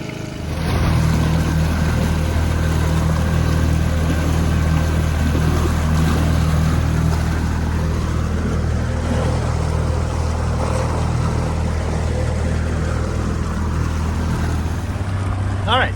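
Dinghy with a Yamaha 9.9 hp four-stroke outboard running, a steady loud droning hum that holds throughout with water and wind noise, no talk.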